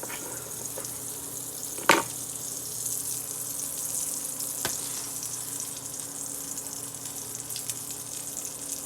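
Biscuits fry in hot grease with a continuous, even sizzle, broken by one sharp knock near the two-second mark and a few lighter clicks.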